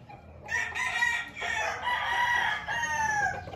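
Several roosters crow loudly and close by in a farmyard, their long strained calls overlapping, with clucking mixed in and no talking.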